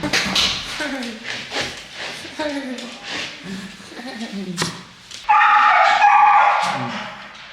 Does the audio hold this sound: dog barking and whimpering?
yes